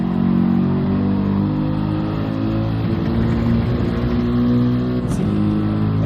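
Racing car engines in a DTM sim race, an AMG against a Ford Mustang, both front-engine rear-drive, droning steadily and loudly with rising and falling revs through an infield sector.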